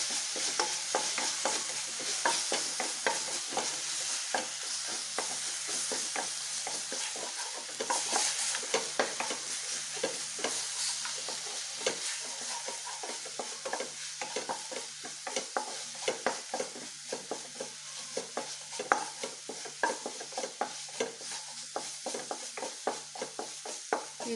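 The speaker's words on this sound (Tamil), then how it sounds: "நம்ம அடிப்பிடிக்காமல் கிளறி விட்டுடலாம்." Vegetables stirred in oil in a pan for veg coconut milk rice, a steady broadband sizzle with frequent scraping stir strokes throughout, close and continuous, no talking.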